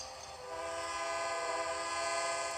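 A train runs through a rail yard in the Trainz Driver video game, a sustained steady rumble with a layered tonal drone that rises slightly and holds, no talking.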